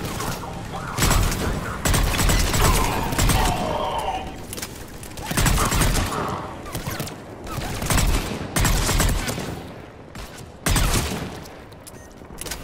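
Sustained gunfire at a checkpoint in the video game Mass Effect 3, with Cerberus troops firing: dense bursts of shooting come in waves, loud and close, separated by brief lulls.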